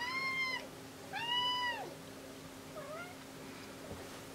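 A cat in a workshop, with battery repair underway, lets out two clear meows followed by a softer, fainter third, each short and tonal over a quiet low hum of background noise.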